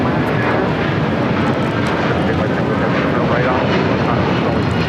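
A Turkish Airlines Boeing 787 Dreamliner touching down at LAX, heard as a steady, loud, broadband engine roar with no breaks, close and continuous throughout.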